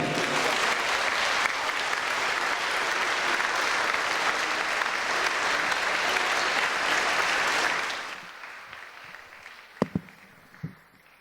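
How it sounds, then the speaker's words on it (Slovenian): A crowd at a Slovenian school graduation ball applauds the graduating students in a long, dense, even burst of clapping that cuts off abruptly, leaving a quiet room with a couple of sharp knocks afterward. "dajmo en velik aplavz za njih"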